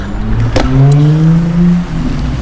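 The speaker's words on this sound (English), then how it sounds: "Now we've got to wait for these cars." Cars pass along a road, their engines loud and close, with a rising then falling whine that sweeps through over a couple of seconds.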